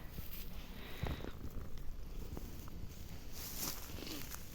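A domestic cat purring softly in a village garden, a steady low rumbling close by, with faint rustles and light footstep sounds around it.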